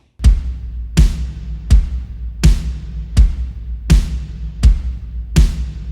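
A snare drum, EQ-boosted around 155 hertz with added high-end brightness from 2200 hertz up, is struck eight times at a steady, even pace. Each hit is loud and punchy with a short ringing decay, and no voices are present.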